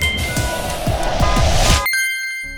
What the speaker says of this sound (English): Notifications, deadlines, car horns, the constant hum of progress.